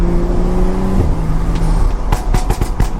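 BMW F30 335i with a Burba tune, its engine droning steadily before a quick run of sharp exhaust pops and crackles near the end, loud and close with no talking.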